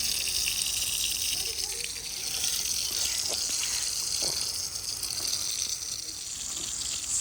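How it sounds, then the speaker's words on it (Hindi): Steady splashing and hissing of water sprinkled over the hard ground of a village home, continuous and fairly loud throughout, with no talking. "घर में पानी का छिड़काव ऐसे किया जाता है"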